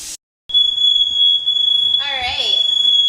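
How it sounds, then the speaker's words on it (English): A smoke alarm shrills while filet mignon sears in butter in a cast iron skillet, a loud continuous piercing tone that starts abruptly after a brief gap, with a person talking over it partway through. "as you can see, the fire alarm's going off"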